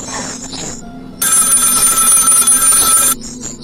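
A telephone rings in a phone booth in the horror game Find Yourself, one loud sustained electronic bell ring lasting about two seconds, preceded and followed by quieter ambient tones.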